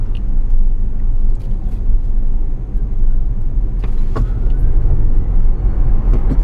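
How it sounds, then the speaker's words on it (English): A Tesla electric car accelerates hard during a supercar event in Monaco, making a loud rumbling rush of road and wind noise, with faint clicks and rattles over it, no talk. "In a Tesla. In an electric car."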